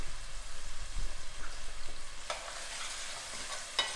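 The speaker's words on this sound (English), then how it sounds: "The heat is still high, so you'll hear it sizzle when I drop this in." Onions sizzling and sweating in a hot pan over high heat for caldo verde, a steady broadband frying hiss with soft stirring scrapes and a couple of brighter crackling bursts near the end.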